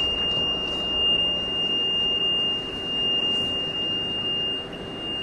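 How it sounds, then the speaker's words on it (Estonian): A Toyota car's reversing beeper holds one steady, shrill electronic tone over a loud, constant engine and road rumble. "aga rõvedalt piiksub tagurdades"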